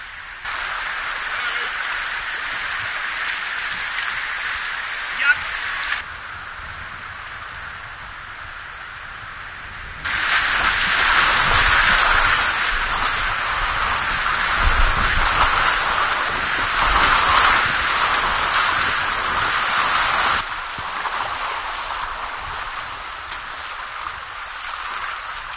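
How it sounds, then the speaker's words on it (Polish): The Korytnica river in Slovenia rushes past with a steady broadband roar that swells louder and fades in stretches, at times close and full, at others more distant. "Rzeka Korytnica."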